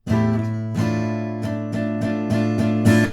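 Guitar strums a pattern, a string of about seven ringing chord strokes in even rhythm, close and full, with no talking.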